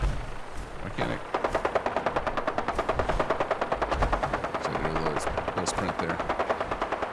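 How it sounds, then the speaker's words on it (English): Rapid automatic gunfire in Sim Settlements 2, a Fallout 4 mod: long rattling bursts with a few sharper single shots, fairly loud over a low droning hum, while a player speaks briefly. "What are you guys shooting at?"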